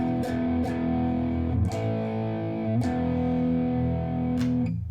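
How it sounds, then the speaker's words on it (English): Heavily distorted electric guitar through a DOD FX50 or Fender YJM overdrive pedal at full level and distortion plays sustained, saturated chords with a few sharp picked attacks, loud and thick with overdrive, no voices. "pedal is full up both levels and distortion"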